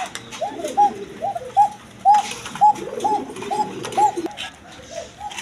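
Pigeons coo steadily in a loft where birds are offered for sale, about seven rhythmic throaty coos close by, with other birds calling faintly in the background.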